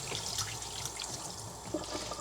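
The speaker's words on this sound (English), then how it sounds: "Wash my hands here." Tap water runs and splashes at a kitchen sink as hands are washed while a ribeye roast is prepared, a steady close-up rush of water with small splatter bursts.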